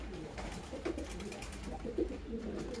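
Giribaj high-flying pigeons cooing softly nearby, a few low throaty coos over a steady background hum.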